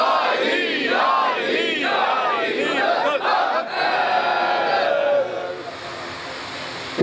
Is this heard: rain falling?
no